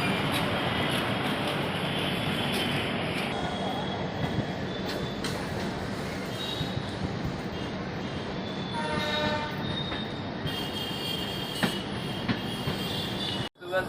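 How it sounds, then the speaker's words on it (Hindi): The Sabarmati Express departs Mohammadabad railway station with a loud continuous rumble and clatter of wheels on rails, a sustained hiss, a pulsing horn-like tone midway, and a sudden cutoff at the end. "चलिए डिपार्चर देखते हैं मोहम्मदाबाद रेलवे स्टेशन से।"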